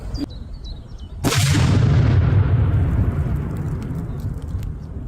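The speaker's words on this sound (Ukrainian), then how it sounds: "Закладаємо під наше взуття вибухову речовину на кшталт міни ПФМ" An explosive charge like a PFM mine detonates under a protective anti-mine boot: a sudden loud blast after a few quiet seconds, followed by a long rumbling decay and scattered crackling debris.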